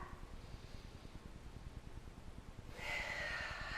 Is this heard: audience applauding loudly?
no